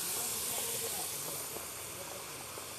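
Half a bowl of water poured onto frying chilli powder and spices in a pan while cooking river fish curry gives a steady, close steam hiss that fills the whole short moment.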